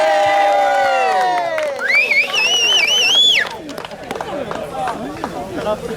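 Wedding guests cheer and whoop at a reception celebration, with loud rising shouts and crowd noise, voices chattering over scattered applause.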